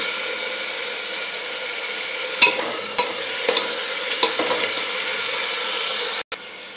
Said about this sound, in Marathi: आता मिश्रण छान एकजीव करून घेते।